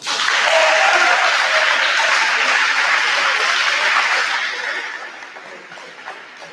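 An audience at a prom court coronation breaks into loud applause, with a few chuckles mixed in, and the clapping thins out and fades over the last couple of seconds.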